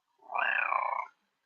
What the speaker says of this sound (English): No, that's a cat, Bear.